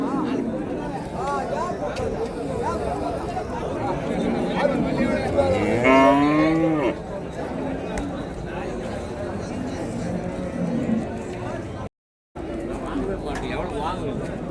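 Cattle at the Vaniyambadi livestock market, with a clear moo rising above steady crowd chatter and people talking nearby.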